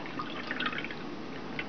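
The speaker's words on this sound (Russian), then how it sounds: "А теперь добавлю 2 стакана молока." Two cups of milk are poured into a pot of pumpkin on the stove, with a steady liquid splashing and trickling stream heard up close, without any talking.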